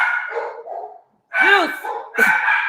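A dog barks repeatedly and loudly nearby in a few bursts separated by brief pauses, with a voice also present.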